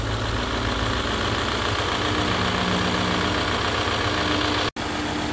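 A Range Rover L322 with the 4.4 TDV8 diesel engine idles up at close range, a loud, steady, even rumble with a faint vibrating clatter that runs throughout and cuts out for a moment near the end.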